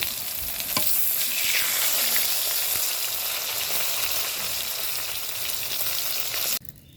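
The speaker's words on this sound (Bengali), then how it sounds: "এইখানে তো আমি গরম তেলের মধ্যে মশলাগুলো দিয়ে দিচ্ছি" Loud, steady sizzling of spices hitting hot oil, a dense hiss that holds for several seconds before cutting off abruptly near the end.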